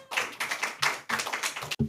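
An audience at a church medical mission health lecture gives brief applause to welcome the next speaker, a short run of close, crisp clapping bursts with no talk over it.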